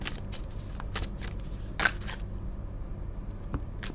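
Tarot cards are shuffled by hand in a soft, continuous riffling and sliding patter, with one slightly sharper snap partway through.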